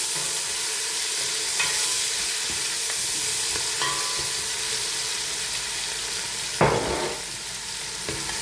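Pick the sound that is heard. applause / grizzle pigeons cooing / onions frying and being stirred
onions frying and being stirred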